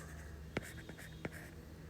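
Pen or chalk writing out an equation by hand, faint steady scratching with a couple of sharper taps, close and quiet.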